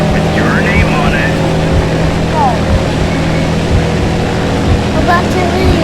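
A video game airplane engine gives a steady, loud low drone with a constant hum throughout, and voices talk over it.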